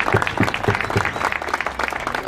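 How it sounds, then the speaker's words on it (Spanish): Crowd applause at a boxing exhibition event, close and fairly loud, with distinct individual claps standing out in an uneven rhythm over a background of many hands. "Un aplauso también"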